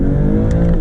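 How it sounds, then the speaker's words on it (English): BMW G42 M240i with a stock exhaust in sport mode, giving a loud, close, sustained engine drone with steady low harmonics as it revs through the gears. "The exhaust does sound good"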